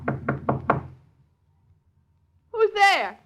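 Four sharp, evenly spaced knocks on a door ring out close and clear, followed by silence and then a short voice.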